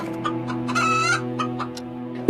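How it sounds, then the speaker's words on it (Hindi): A hen clucks in a short, lively burst of several harmonic squawks, close and clear, with no other sounds around it. "मुखिया कुछ देर तक सोचता है, तभी मुर्गी एक अंडा दे देती है।"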